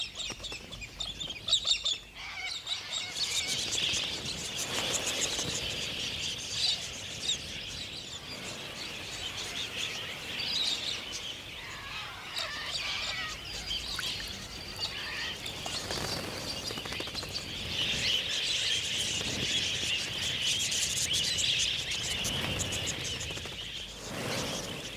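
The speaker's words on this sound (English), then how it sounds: "Galahs seem to have plenty of time for clowning around." Galah parrots call in a raucous flock in the Australian outdoors, harsh screeches and chattering overlapping steadily throughout, some near and some farther off, with no talking.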